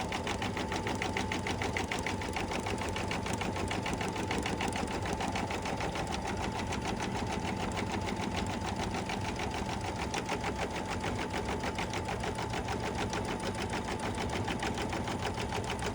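A sewing machine stitches down a quilted mug rug in one long, fast run of rapid needle strokes, even and close with no pauses.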